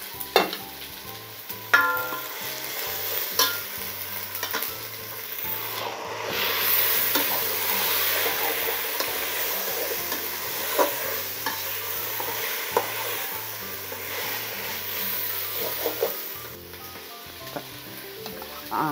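Ginger garlic paste sizzles and spits in a pan while being stirred for mutton biryani, a steady frying hiss with scraping stir strokes throughout, close and fairly loud, no voices.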